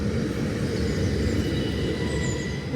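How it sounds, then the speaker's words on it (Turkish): A train bound for Brussels pulls into a station, a loud steady low rumble with faint high squeals of wheels on rail throughout. "Trenim de geliyor bu arada."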